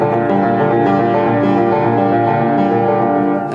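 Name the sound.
piano playing a theme variation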